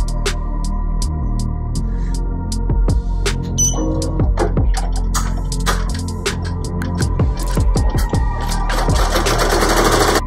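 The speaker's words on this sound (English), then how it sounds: "right now I'm putting the placement stitch onto the stabilizer so that we can go ahead and place the fabric on top" A Ricoma EM1010 embroidery machine sewing a placement stitch onto cutaway stabilizer, with rapid needle clatter and sharp mechanical ticks, loud and close with no talking.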